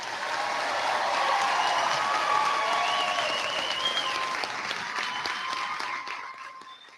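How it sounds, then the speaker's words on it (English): A large crowd applauds the graduating class at a high school graduation ceremony, dense sustained clapping with faint cheers and whistles blending in, fading gradually toward the end. "please applaud the class of 2016"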